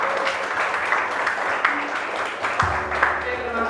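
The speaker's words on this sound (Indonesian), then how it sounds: "Oke, tepuk tangan untuk kita semua." A classroom group claps at the close of a university teaching session, a steady patter of hands filling the room with some voices mixed in, before a low hum sets in near the end.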